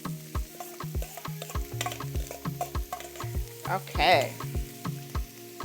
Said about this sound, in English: So we cook our shrimp first to let it get a little bit of nice color.